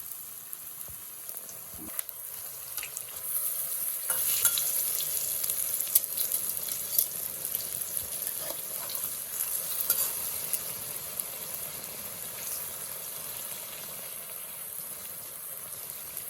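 Palm fruit fritters (taler bora) are frying in oil over a low flame, giving a continuous bright sizzle with scattered crackles and pops. A few stirring clicks and scrapes come close by, and no one speaks.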